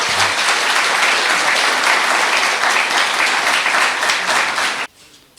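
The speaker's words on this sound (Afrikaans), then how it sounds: "En ek wil vra dat ons vir Dr. Dirk 'n lekker hande klap gee soos hy nou opkom om die feesrede te lewer." Loud, dense audience applause at a Day of the Vow festival gathering in South Africa, sustained and even for about five seconds as the speaker comes on stage, then cutting off abruptly.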